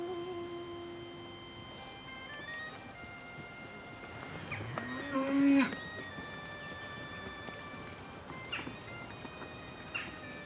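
Cows from a Holstein dairy herd of 45 low faintly at a distance on a farm, a drawn-out moo rising and falling amid a steady background of farm noise and tonal hum.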